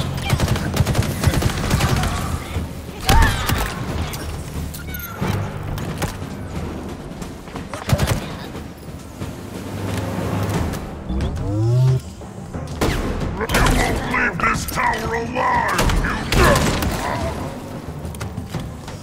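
Carbine fire in Halo Infinite's campaign, sharp shots and bursts scattered across a busy firefight with explosions and mechanical clanks, loud and close, a voice talking over parts of it.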